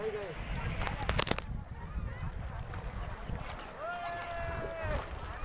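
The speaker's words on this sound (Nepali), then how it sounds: "एउटा ठुलो ठुलो पोखरीमा डुङ्गा सवार गरिरहेछौँ." Boat ride on a large pond in Pokhara, with soft water lapping and wind noise around the boat, fairly quiet, plus a few sharp knocks and a brief voice.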